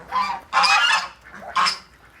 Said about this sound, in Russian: Вон мои гуси.